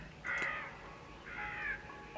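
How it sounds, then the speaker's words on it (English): Crows caw within a song, two drawn-out harsh calls about a second apart, fairly clear over a low musical bed. "Some crows and stuff"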